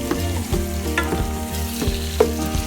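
Green onion fries with pork belly in a wok, a loud, close, continuous sizzle broken by rhythmic scrapes and clinks of the spatula tossing the pieces.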